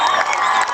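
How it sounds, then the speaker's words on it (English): The Valle Catholic crowd cheers and claps loudly at a high school football game away at Thayer, a brief, dense burst of excited voices. "the Valle crowd starting to come to life"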